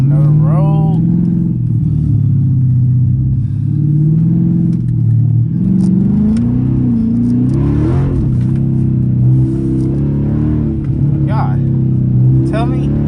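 A straight-piped Dodge Charger R/T being driven at night, its engine and exhaust a loud, continuous deep rumble that rises and falls with throttle, rough revs over steady cruising drone, heard from inside the car.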